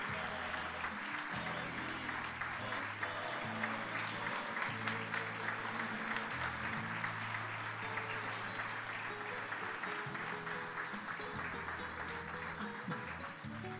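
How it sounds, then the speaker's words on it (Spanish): Sustained applause from a crowd at a ceremony honouring war veterans and the fallen, steady broadband clapping for about fourteen seconds while a low hum and faint voices sit underneath. "Continuamos con el aplauso para cada uno de ellos"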